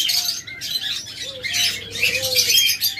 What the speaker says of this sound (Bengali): তারপর আপনাদেরকে কিছু বাজরিগার দেখাই